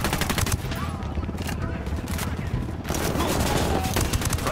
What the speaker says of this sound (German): Schüsse! Unidad greift das Kartell an.